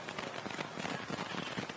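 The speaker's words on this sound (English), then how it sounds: "It started raining." Rain falls on an outdoor microphone at a high school baseball game, a dense, steady crackling hiss of drops and static filling the whole short stretch at constant loudness.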